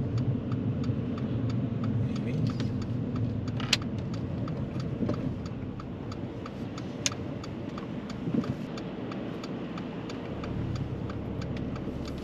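A car's turn indicator ticks at an even, regular pace inside the cabin during a mock driving test. The faint clicks sit over a low engine and road rumble, with no talk.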